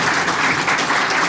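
Audience applause for a historian welcomed onto a stage at a Slovak panel event on the 1928 decade of democracy, a steady dense wash of clapping throughout, close and loud.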